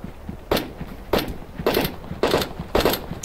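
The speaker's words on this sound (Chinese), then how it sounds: "自动开枪哎！" Automatic gunfire in the zombie survival game Minidayz, heard as five evenly spaced sharp bursts of shots about half a second apart, loud and close, with no talking.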